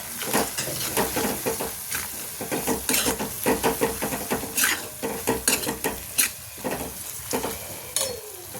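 Freshly pounded ginger garlic paste sizzles in a hot pan while being stirred, with repeated scraping and clinking strokes of the spoon against the metal throughout a quick home lunch cook, no speech.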